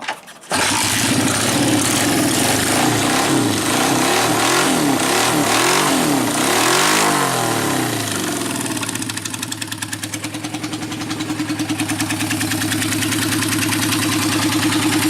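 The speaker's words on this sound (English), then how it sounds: "I give it gas and it just quits on me." Motorcycle engine with a fault that makes it quit under throttle runs loud and close throughout, revving with rising and falling pitch sweeps before settling into a steady, even idle.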